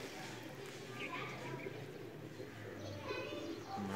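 A breeder pigeon coos softly among other faint bird chirps, quiet and close, while someone talks over it in the pigeon loft.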